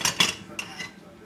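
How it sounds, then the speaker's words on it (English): A metal ladle scrapes and clinks against a pot while scooping dairy-free mushroom corn chowder, with two quick clatters up front and a sharper knock midway, then fading to quiet. "and ladle some of the soup."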